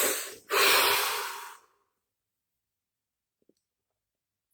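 A long, deep inhale swells then fades during a guided relaxation session, followed by near silence with a couple of faint clicks at the end.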